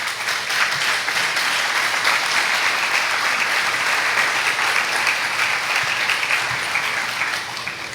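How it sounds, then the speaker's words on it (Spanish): Sustained applause from a Christian church congregation, a thick wash of many hands clapping at an even level before it thins slightly at the end. "Démosle un fuerte aplauso al Señor por ese ejemplo."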